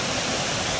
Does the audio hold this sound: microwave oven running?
no